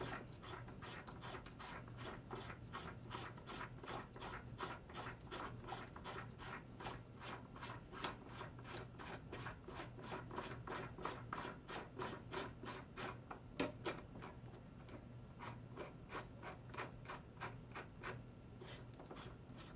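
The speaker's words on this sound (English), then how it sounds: "I'm going to screw in my swager die until it touches the shell plate" A Hornady primer pocket swager die is screwed down into a reloading press toward the shell plate, making a steady run of fast, even ratcheting clicks with a faint rubbing undertone, close by, with no talking.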